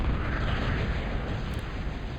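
Big Bertha long-range artillery firing in Total Annihilation Escalation, a steady heavy rumbling roar of booming fire that fills the whole stretch at constant loudness, with no distinct separate shots.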